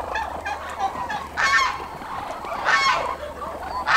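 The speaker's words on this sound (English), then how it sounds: "the geese and turkeys." Geese and turkeys in a backyard poultry pen give loud, close, harsh honking calls in three bursts about every second and a half, over a steady outdoor background and without talk.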